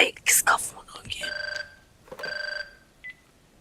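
A phone rings in two electronic trilling bursts, followed by a short beep, after a brief muffled voice and clatter at the start.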